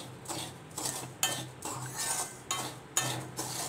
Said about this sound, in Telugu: ఎంతసేపు తిప్పుతాము అట్లా ఎంతసేపు అంటే బొరుగులు వచ్చేంత వరకు